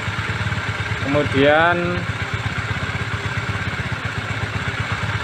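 Fuel-injected motorcycle engine revving high during servicing, a steady close rattle that briefly climbs in pitch and drops back, with a short spoken word over it.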